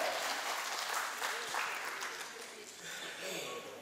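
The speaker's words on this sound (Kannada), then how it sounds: "ಹೊಡ್ರಿ ಚಪ್ಪಾಳೆ." Audience applause at a North Karnataka comedy show during a silver jubilee event, sustained broad clapping throughout, moderately distant and even, fading slightly toward the end.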